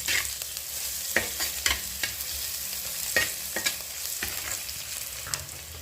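Onion frying in oil in a pan for a spicy fish dish, with a continuous close sizzle and repeated scraping taps from a spoon stirring at an irregular rhythm.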